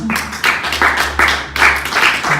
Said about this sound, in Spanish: ¿Cuánto le pueden dar un aplauso a nuestro Señor Jesucristo?